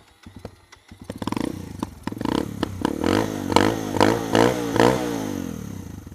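A motorcycle fitted with a new exhaust starts with rapid popping cranks, then settles into a loud, close, lumpy running rhythm with repeated throttle blips.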